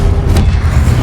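A Confringo explosive spell from Hogwarts Legacy lands as a loud, close low-end boom that swells briefly and rumbles out, with no talking.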